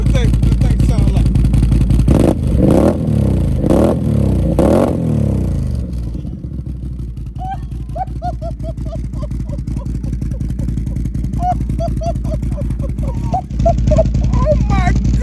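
A 2022 Can-Am XMR 570 engine revs hard with throttle blips: several loud, rising bursts in the first seconds, then a rough, steady idle with popping and clattering, close and loud.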